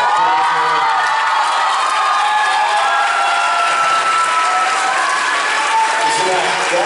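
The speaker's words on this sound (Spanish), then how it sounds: "quiero que le demos un fuerte aplauso a Cecilia de la Cueva" An audience applauds Cecilia de la Cueva at a live show with loud, sustained clapping, cheers and whoops from a large crowd, filling the space continuously.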